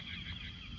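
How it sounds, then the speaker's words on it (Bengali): A bird calls outdoors on a misty, cloudy morning after rain, a faint honking note lasting under a second. "পাখি ডাকছে"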